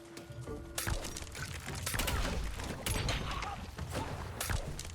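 Crossbow bolts exploding in the video game LORT, a dense run of heavy blasts and crunching impacts layered over constant battle clatter, loud and close.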